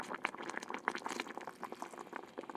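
Water poured into a simmering hot pot broth with baby bok choy and congealed taro: soft continuous bubbling and liquid splashing, close and fairly quiet, with no talking.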